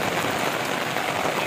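Heavy monsoon rain at a temple site in Lonavala, a dense, steady roar of downpour filling the whole moment without pause or voices.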